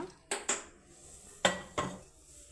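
Metal pan being set down on a stove before making drumstick and dried fish tomato curry, with four sharp clanks in two close pairs, fairly near, then quiet.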